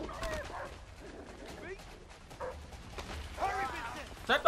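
Dogs barking and squealing during a chase in the video game A Way Out, with yips and whimpers scattered through the stretch, mixed with game noise and the loudest bursts near the end.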